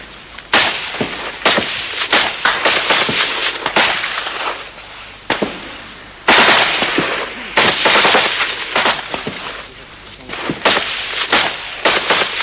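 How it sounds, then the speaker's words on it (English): Heavy machine gun fire and 50mm mortar explosions from a 1975 combat action at Balibo, East Timor: loud, close bursts of sharp cracks and booms, repeated irregularly over about twelve seconds with no pause. "there was a steady barrage of heavy machine gun fire and 50mm mortars"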